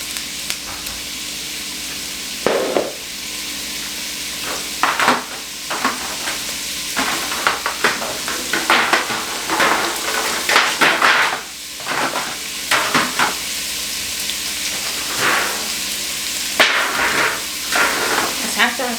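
Carrots sizzle and crackle as they fry in a pan for a rice dish, with repeated stirring scrapes and clatters standing out over a constant frying hiss.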